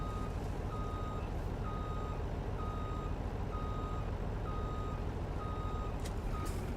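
A Volvo truck in the Farming Simulator 19 video game sounds its reversing alarm, a steady series of evenly spaced beeps over a constant engine hum.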